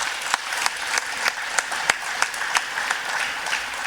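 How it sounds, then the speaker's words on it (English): An audience at a State of the City address gives a round of applause, a moderate, steady spatter of claps with a few sharper individual hits standing out. "so please give him a round of applause also."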